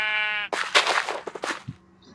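Sheep in the video game Minecraft bleat in a short, clear, wavering cry, followed by a brief burst of other game noise.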